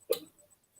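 A single sharp hiccup, brief and close, amid an otherwise quiet indoor room.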